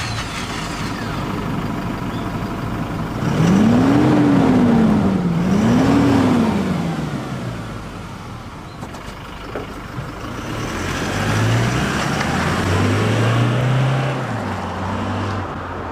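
Toyota Hilux GUN125 with its stock muffler at mid engine speed: a steady exhaust drone with two rising-and-falling rev sweeps early on, then a lower sustained rumble near the end, heard alone.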